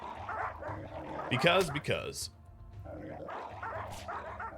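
A wolf in the RimWorld video game gives a few short barks and yips, with a voice talking over and around them.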